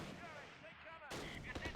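Mortar shells firing in the wartime strategy game Close Combat at Arnhem Rail Bridge, a short burst of sharp booming reports with a crackling tail, close and loud.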